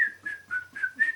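Someone whistles a short, steady pulsing tune of five repeated notes, clear and fairly close with no talking.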